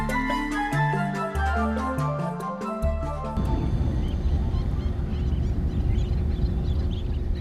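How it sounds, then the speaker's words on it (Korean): After a short run of stepped musical tones, a dense flock of shorebirds calls and flutters continuously on a tidal mudflat in Seocheon, South Korea, a busy wash of chirps and wingbeats. "갯벌은 새들의 날개짓과 울음소리로 가득 찬다."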